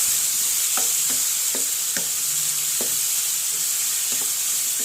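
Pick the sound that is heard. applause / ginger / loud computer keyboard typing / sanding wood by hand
ginger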